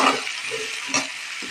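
A spoon works through salted food frying in a pan, scraping and knocking against the metal over a continuous nearby sizzle, with a couple of louder strokes.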